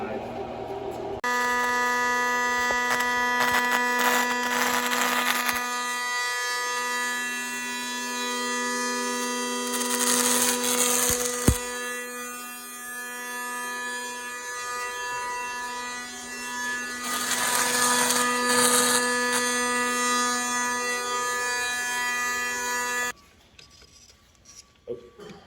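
Tack welding 3/8 plate with 0.045 solid wire on a cobot welding setup: several long, steady buzzing arc bursts separated by quieter gaps, with brief talk in between.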